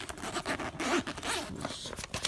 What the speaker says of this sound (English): the top zips shut